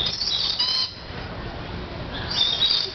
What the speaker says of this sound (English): We seem to have found the only hungry bird in the entire continent.